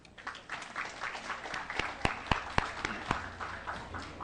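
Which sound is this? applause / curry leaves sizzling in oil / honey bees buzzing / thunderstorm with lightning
applause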